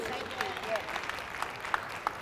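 Audience applause after a talk at the ACEs Summit in Memphis, Tennessee, a soft, steady patter of many hands clapping at a distance, with a few sharper claps standing out near the end.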